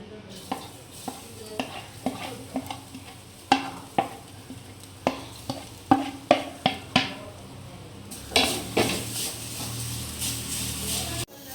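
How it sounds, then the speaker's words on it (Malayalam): A spoon scrapes and taps a hot pan in irregular strokes as grated coconut roasts with a soft sizzle, growing into louder steady frying toward the end. "അതിലേക്ക് നമ്മൾ തേങ്ങ ഇട്ട് കൊടുക്കാം"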